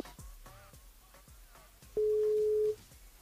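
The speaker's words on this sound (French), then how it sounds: "il appelle Manuela" A telephone tone sounds once on a live French call-in radio show, a steady sustained beep lasting under a second, loud and clear after a few soft knocks and faint background sounds.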